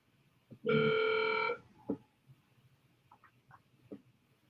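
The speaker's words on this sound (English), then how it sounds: "we hear your phone ringing, but we don't hear you" A phone rings on the far end of a video call, one short burst of bright electronic ringing followed by faint clicks and small noises, with no talking.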